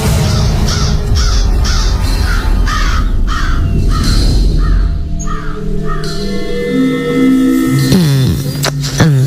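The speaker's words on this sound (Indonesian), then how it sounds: "aku sedikit dikagetkan dengan seekor burung yang tiba-tiba saja terbang keluar dari jendela" A large black bird flies out of a window, giving a run of loud, harsh crow-like caws in quick succession. The calls then give way to lingering eerie tonal sounds.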